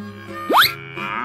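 A cartoonish cow moo from an animal transformation game, a single short rising call standing out clearly against a faint background hum.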